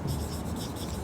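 Marker or chalk scratches across a classroom board in a short, continuous scraping rub, close and alone.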